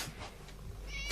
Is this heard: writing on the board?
no